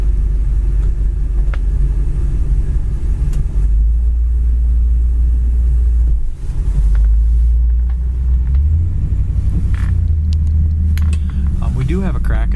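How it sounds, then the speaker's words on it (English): A 1956 Mercury V8 car engine with an automatic two-speed transmission idles steadily as a loud, continuous low rumble, with a brief dip near the middle. It then settles into a slightly different drone that runs to the end. "the motor runs super nice on it"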